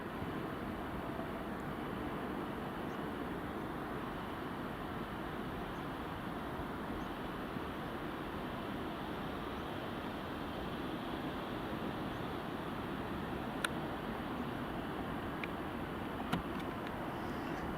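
A Ryanair airliner takes off at Edinburgh Airport, its engines a steady, broad roar heard from a distance that holds evenly throughout with no voices.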